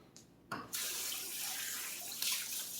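Fingers are rinsed under a running kitchen tap while cooking meatballs: a soft splash starts, then water streams steadily and spatters from the faucet into the sink, close and fairly quiet.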